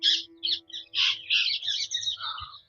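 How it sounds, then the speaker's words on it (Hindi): Birds call and chirp on a morning hilltop, a string of bright squawking, caw-like calls in close bursts with brief pauses, loud and near, with no one talking over them. "पक्षी की चहचहाहट है यहाँ पे"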